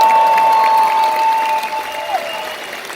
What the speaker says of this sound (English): actually get a bigger applause than that